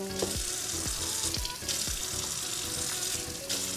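Water poured onto couscous in a pot, a continuous bright rushing splash holding steady throughout, close and fairly loud, with a few dull knocks underneath and no talking.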